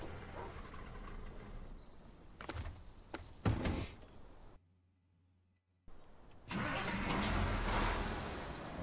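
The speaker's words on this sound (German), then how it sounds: "wir machen den hier erstmal Motor aus." A truck engine in the game SnowRunner rumbles, then shuts off into a brief near-silence before mechanical noise and engine sound return.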